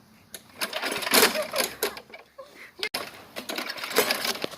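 A lawn mower engine is yanked with its pull-start cord several times in quick, rattling bursts that fail to catch, while people talk and shout over the effort nearby.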